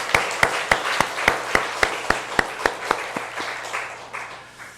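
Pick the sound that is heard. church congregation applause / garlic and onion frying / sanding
church congregation applause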